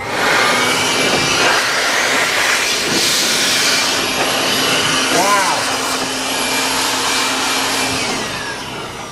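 An ENZOO cordless blower runs at its high speed setting with a loud, steady, close-up rushing roar that holds for the whole stretch.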